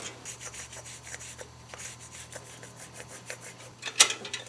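Sheet metal for a steering blister on a 1934 Ford hot rod is being cut, with a quick run of rhythmic rasping, scraping strokes close by and a sharper clink near the end.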